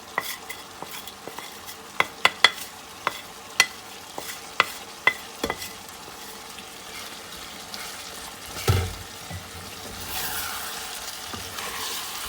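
Chicken ginger frying in a pan, a low sizzle punctuated by a series of sharp metallic clinks of a spoon against the pan, later softer stirring and a rising hiss.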